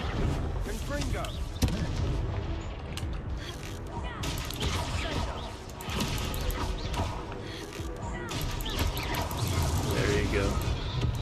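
A Confringo fire blast spell going off in Hogwarts Legacy, with repeated loud blasts, crashes and creaking combat effects under a continuous mix of game sound and voice.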